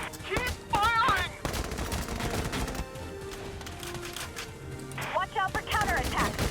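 Rapid bursts of gunfire in Valkyria Chronicles 4, crackling volleys up close amid battle noise, with brief voiced callouts and whistling effects in between.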